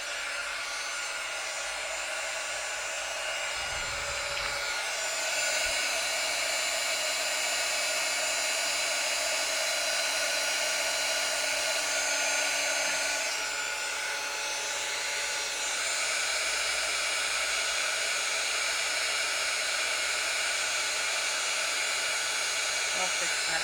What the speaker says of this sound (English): And then we're going to heat it up again.